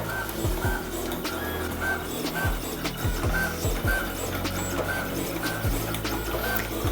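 A Foison cutting plotter fitted with a creasing tool works through a faux-acrylic cutting job, giving a steady mechanical whir with repeated carriage sweeps and soft clicks that continue evenly throughout.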